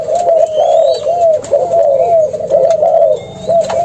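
Malaysian pigeons or doves coo in steady, repeated rolling calls, close and loud, with faint higher chirps of other birds in the background and no talking.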